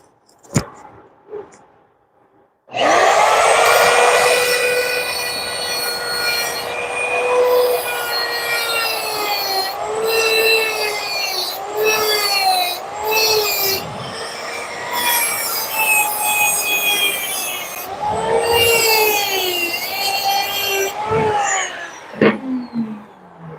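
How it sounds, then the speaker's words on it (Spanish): An angle grinder polishes welded metal on a driveshaft universal joint cross, rebuilt with Castolin Eutectic 680 hard-facing electrode. It gives a loud, continuous whining squeal whose pitch wavers and dips for about twenty seconds, with no talking. "Vamos a pulir nuevamente."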